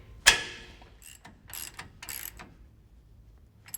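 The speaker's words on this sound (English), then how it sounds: "jack the axle up into place and bolt it on using the stock U-bolts" Ratchet work bolting the axle and new shocks onto a 1966 Ford Bronco: a sharp metallic clank followed by several quick ratcheting bursts, close and clear in a quiet shop.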